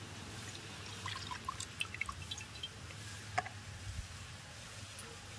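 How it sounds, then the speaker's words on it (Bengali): Raw mango puree slides into a pan with soft wet plops and drips, quiet and close, over a low steady hum, with no talk. "এবার কড়ার মধ্যে দিয়ে দেব আমের পিউরি।"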